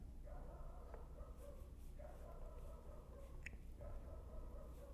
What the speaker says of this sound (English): What is with these dogs, man?